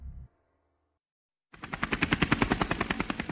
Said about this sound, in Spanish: el más completo y avanzado servicio de ambulancia aérea en helicóptero en nuestro país